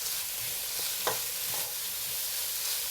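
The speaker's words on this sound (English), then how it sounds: "Put them all in, mix them up for a while." Carrot pieces and onion being stir-fried in a pan with minced meat, a steady close sizzle broken by a few soft scrapes of the spatula, no talking.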